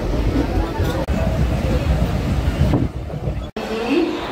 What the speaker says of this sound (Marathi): आता कोपरखैरणे स्टेशनवरून ठाणेसाठी ट्रेन पकडली आम्ही